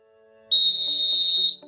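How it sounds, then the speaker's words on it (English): A single referee-style whistle notification from the My Scottish Football app sounds once, a clean, piercing tone held for about a second over quiet background music. "Again, whistle noise there"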